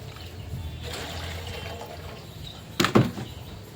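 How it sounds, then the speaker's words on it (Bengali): Water trickles quietly as a jackfruit is washed by hand, followed by a short burst of splashing and pouring near the end. "দেখো আমি কাঁঠালটা ধুয়ে নিচ্ছি"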